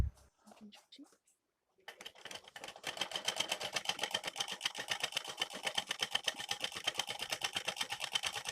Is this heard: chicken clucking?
no